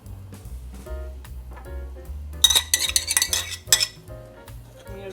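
A spoon stirs yellow cake mix and a stick of butter in a bowl, knocking and scraping in a rhythmic series of clinks that grows busier and louder midway, up close with no talking.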